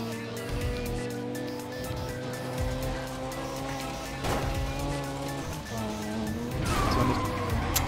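Car in Need for Speed Undercover accelerating hard, engine revving up through rising gears with passing traffic and occasional tire squeal, loud and sustained without talk.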